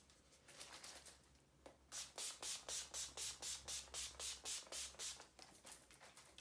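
Urban Decay All Nighter setting spray pumped in a quick series of about a dozen close, sharp hissing bursts in a steady rhythm, after a quieter stretch, with no talk.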